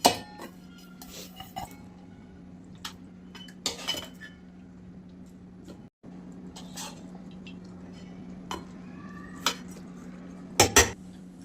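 Metal utensils clink and scrape against pots and dishes in short, irregular bursts as cooked chigal leaf curry is served into a small pot, with a steady low hum running underneath.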